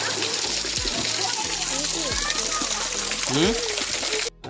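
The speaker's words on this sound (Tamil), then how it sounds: "நானும் என் பசங்களும் ஜாலியாக அந்த தண்ணியில் விளையாண்டுட்டு" Kids splash and play in a cool hill stream at Sirumalai, water sloshing and slapping steadily up close while children's voices and excited chatter ring out over the constant rush.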